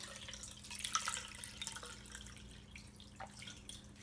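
Water poured into a pan of dried chillies, grated coconut, salt and turmeric for a stingray fish stir fry, a soft trickling and dripping splash that is quiet and steady throughout, with no talking.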